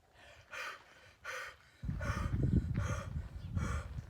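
Heavy, rapid panting from a dog, with sharp rhythmic breaths that turn louder and rougher halfway through, close by.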